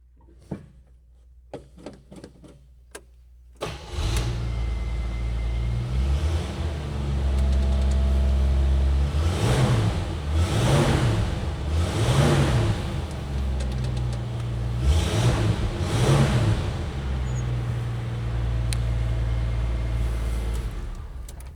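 A 1982 Jeep Scrambler's 258 engine with a single exhaust cranks and catches after a few quiet clicks, then idles with a low rumble. Several throttle blips follow, each swelling and falling back, heard close and alone.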